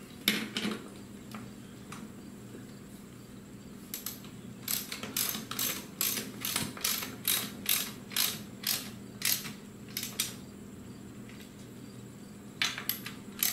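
Ratchet tightening bolts on a high-rise mechanic's creeper seat, crisp clicking strokes in quick rhythmic series with short pauses between runs, close and fairly quiet.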